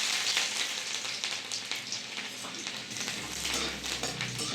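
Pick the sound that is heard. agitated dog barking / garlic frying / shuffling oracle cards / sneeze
garlic frying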